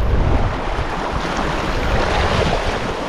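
Strong wind roars steadily across open sea on a fishing trip off Palawan, with a rough, unbroken rush of wind noise and surf buffeting the microphone at close range.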